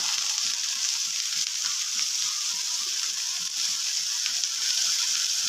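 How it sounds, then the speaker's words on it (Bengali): Brinjal slices frying in hot oil on a tawa: a loud, steady, close-up sizzle that keeps going without a break, with faint rhythmic bubbling underneath. "তেল গরম হয়ে গেছে আমি বেগুনের স্লাইসগুলো যতগুলি সম্ভব ধরে একসাথে মানে সেইভাবে দিয়ে দিচ্ছি"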